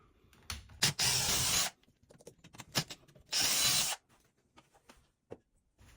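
Screws are backed out of an existing metal light fixture bracket on an electrical box, giving two long, close whirring bursts from a driver with small clicks and taps of metal between them.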